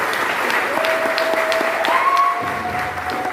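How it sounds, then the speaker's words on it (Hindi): An indoor audience at a business seminar in Varanasi claps steadily and evenly throughout, a dense wash of applause from many hands. "लाइन अच्छी लगे तो ताली बजा सकते हो।"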